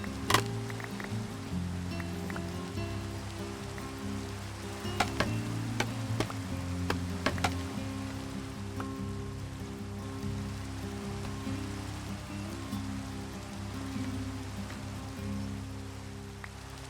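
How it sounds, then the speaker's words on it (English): Rain falls steadily in Minecraft, a soft continuous patter with scattered drops ticking on surfaces, heard alone over a low background tone. "Oh my gosh, of course it starts raining again."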